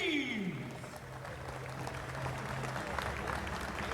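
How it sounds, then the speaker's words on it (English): Applause for the athletes at a disabled strongman and strongwoman deadlift event, a steady wash of clapping from the crowd that runs the whole clip, with a voice briefly audible early on. "One big round of applause, please."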